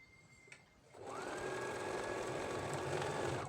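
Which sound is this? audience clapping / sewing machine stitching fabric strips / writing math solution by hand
sewing machine stitching fabric strips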